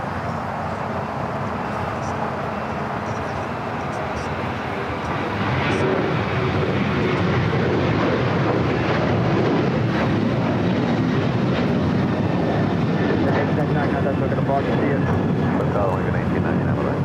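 An American Airlines jet airliner at Los Angeles International Airport rumbles as a steady broadband roar that grows louder midway and holds, with a voice talking over it.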